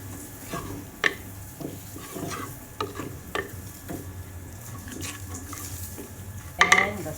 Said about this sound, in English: Let the curry powder cook a little bit.